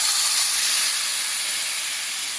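Water hits a hot pan of browned vermicelli for Iraqi biryani, setting off a loud, close, continuous steaming hiss and sizzle that slowly eases over a few seconds.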